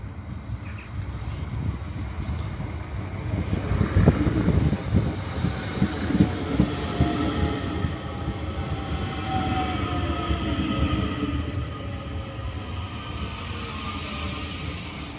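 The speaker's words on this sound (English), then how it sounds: "So I'm waiting for my next train now" A commuter train on the Howth branch rolls into Sutton Station with a rumbling, clattering approach, then a long fading wheel squeal as it slows alongside the platform, close and steady throughout.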